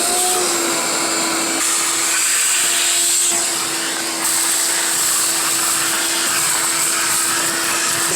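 A Ridgid 16-gallon 6.5-peak-HP NXT wet/dry shop vacuum runs steadily and loudly throughout, a constant motor whine and airflow roar with a slight dip in pitch and load partway through, no talking.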